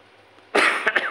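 A single sharp, dry cough from someone with flu bursts out after a quiet moment, with a couple of short rough follow-up hacks close to the listener.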